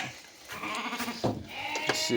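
Sheep bleat a few times nearby, wavering cries mixed with a person speaking.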